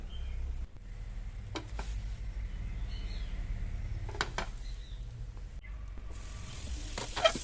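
A flour-and-egg snack frying in a pan over a low flame, giving a soft continuous sizzle with a few brief clicks and scrapes as pieces are turned, fairly close and alone without talk.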